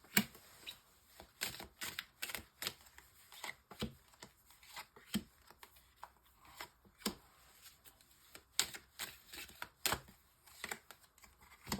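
Tarot cards being shuffled and handled for a nine-card spread, a series of sharp, irregular flicks and snaps up close, separated by brief quiet gaps.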